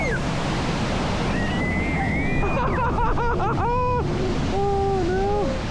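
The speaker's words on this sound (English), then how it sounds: "Oh, there's this waterfall, wasn't it?" Rushing, splashing water roars steadily as the Piranha river rapids ride at Efteling passes a waterfall, loud and close, with wind buffeting and riders shouting and squealing over it.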